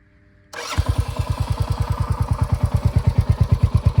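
After a brief quiet hum, a fuel-injected Royal Enfield Hunter 350 motorcycle engine cranks and fires up, settling into a loud, steady, evenly spaced thumping idle.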